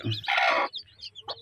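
A hen gives a couple of close, brief clucks, followed by faint high chirps from her seventeen black-and-white chicks.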